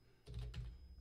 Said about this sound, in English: typing something here for Carrie